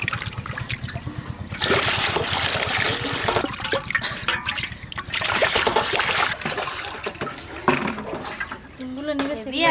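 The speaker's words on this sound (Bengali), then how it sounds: "সব মাছ একদম জ্যান্ত, জলের মধ্যে খেলা করছে।" Live pond fish thrash and splash in shallow water, a close, busy stream of wet slaps and sloshing rising and falling in bursts, with people talking over much of it.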